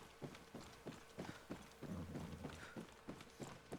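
A horse in the video game Far Cry 6 trots along with steady, rhythmic clip-clopping hooves, with a brief rumbling scuffle midway as it runs.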